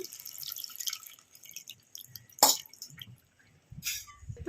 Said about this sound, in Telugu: ఇలా కలిపి పెట్టుకున్న చింతపండు అయితే ఇందులో అయితే పోస్తున్నాను